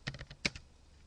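Several quick keystrokes on a computer keyboard at a public terminal, as a username and password are typed in, a brief burst of clicks and then quiet.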